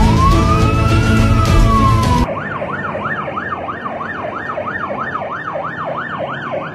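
An ambulance siren wails in a fast, steady rising and falling cycle, loud and close on a road, after a brief burst of dense, louder noise at the start.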